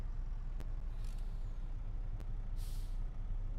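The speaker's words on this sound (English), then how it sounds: "the air brakes release when you use the parking brake" Truck air brakes in Farming Simulator 25 let out two short, sharp hissing bursts of released air, the second longer, over a steady low engine idle.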